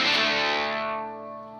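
An electric guitar chord is struck through a JHS distortion plugin, giving a thick, buzzing distorted tone that rings out and slowly fades over about a second and a half.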